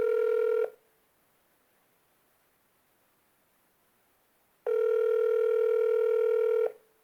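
Telephone ringing in two loud electronic tone bursts, a short one at the start and a longer one about four seconds later, with near silence between.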